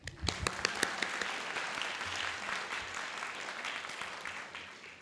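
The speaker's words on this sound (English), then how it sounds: "We can clap." An audience at a high school graduation breaks into steady, sustained applause with scattered individual claps, moderately distant and filling the hall.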